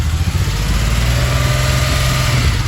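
A 1986 Porsche 911 Targa engine runs loudly and steadily with a deep, rumbling low tone, idling close by without any voices.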